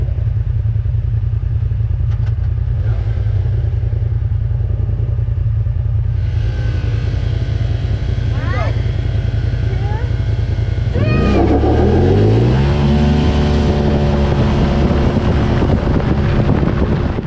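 A 2017 Polaris RZR Turbo side-by-side with stock clutching runs on a trail, its loud, steady engine drone joined by wind buffeting, then a sharp surge of revs near the end as it accelerates hard.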